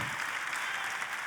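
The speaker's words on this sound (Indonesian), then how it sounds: "Boleh saya dengar tepuk tangan yang paling meriah dari tempat ini?" A church congregation claps together in a steady, full burst of applause filling the hall.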